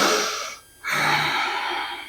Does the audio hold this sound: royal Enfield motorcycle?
no